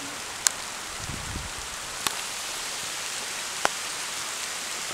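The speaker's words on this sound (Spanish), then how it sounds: "Está lloviendo. Y está lloviendo." Steady soft rain hiss at the Chahuatlán waterfalls, with a few sharp drips or taps standing out, fairly quiet and continuous, no voices.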